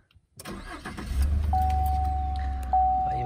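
A car engine starts with a short crank and catches into a steady, close idle, and a high electronic chime tone rings over it. No one speaks.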